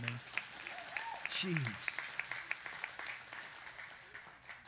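Church audience clapping during a sermon, a scattered run of individual claps with steady applause underneath, fairly faint, while a voice speaks over the start.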